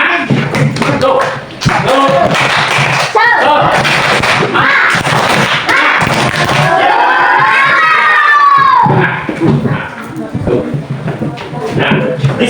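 Classroom of children clapping and cheering loudly together, a dense burst of shouts and clapping lasting throughout, with excited voices rising and falling nearby.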